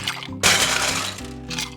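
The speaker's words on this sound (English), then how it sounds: "add some ice to our mixing glass" Ice dropped into a cocktail mixing glass lands in a loud, close clattering crash of cubes, followed by a few smaller clinks as they settle.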